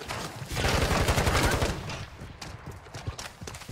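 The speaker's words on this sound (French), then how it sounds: "Le mec il nous snipe la gueule" Sniper and rifle gunfire in the video game Warzone during its Halloween event, a dense burst of rapid shots for about a second and a half, then fainter scattered reports, mid-loud against game noise.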